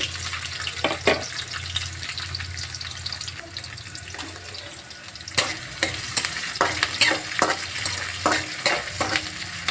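Chopped onion fries in a pan with chana dal, a steady sizzle under repeated scraping stirs of a spoon against the pan, close and fairly loud with no talking.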